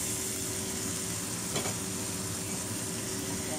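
Potatoes sizzle loudly in a pan of corned beef stir fry, a steady broadband frying hiss with a short burst as they go in, no voices.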